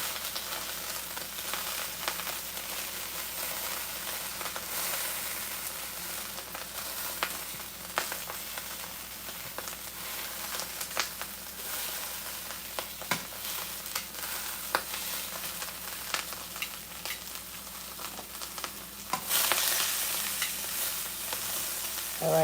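Salmon skin searing in a hot pan, a steady sizzle and crackle with small pops throughout, close by, and a louder hiss flaring near the end, no talking.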